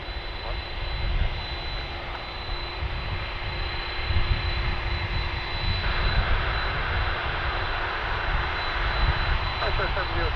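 A Boeing 747 rumbles and roars at Vancouver International Airport, a broad steady engine drone with a faint high whine, loud and sustained throughout.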